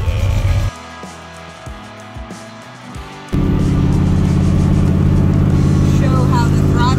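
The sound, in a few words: 1971 El Camino engine revving with throttle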